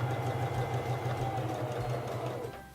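A Singer 3333 sewing machine stitches fabric in a steady, continuous mechanical whir with a fast, even rhythm, close and loud, slowing slightly at the very end.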